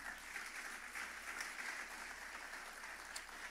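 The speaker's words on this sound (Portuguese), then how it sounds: "Aplauda o Senhor nessa noite." A church congregation applauds during a worship service, a faint, distant, even wash of clapping that holds steady for a few seconds with no one speaking.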